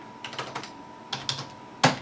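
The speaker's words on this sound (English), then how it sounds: "So we're gonna type" Typing on an iMac G4 keyboard while entering commands in single user mode, two quick clusters of close key clicks followed by a single harder keystroke, like pressing return.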